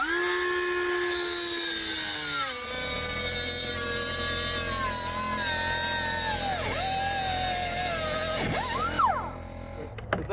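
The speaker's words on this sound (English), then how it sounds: "and then I'm going to grab my die grinder" A die grinder whines at a high pitch, rising and dipping in tone as it bites and eases off during a truck camper turnbuckle job, then spins down near the end, with no talk over it.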